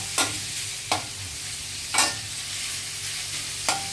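Garlic stir-fry being stirred in a pan: a steady sizzle runs throughout, broken by four sharp scraping strokes of the spatula spaced about a second apart, close and clear with no talking.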